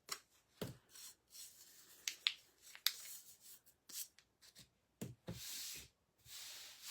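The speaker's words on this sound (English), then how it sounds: "I love the sound of sanding." Hand sanding of a wooden pallet sign held over a trash can: soft, scratchy, irregular strokes in short bursts with brief pauses, fairly faint and close.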